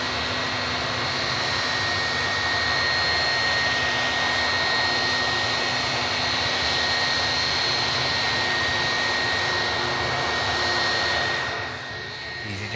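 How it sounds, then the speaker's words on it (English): Rolls-Royce RB211 jet engines roar in a loud, steady, sustained rumble with a high whine layered on top, holding for several seconds before easing slightly at the end. "RB211s making a racket"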